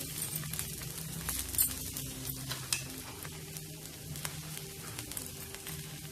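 Rava dosa batter with onion frying in oil on a non-stick pan, a steady close sizzle with soft crackles and faint stirring taps throughout, no voices.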